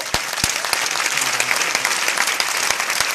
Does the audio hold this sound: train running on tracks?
no